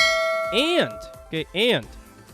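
A bright chiming ding rings out, then two quicker rising chime tones follow, like a notification alert sounding alone against a quiet background.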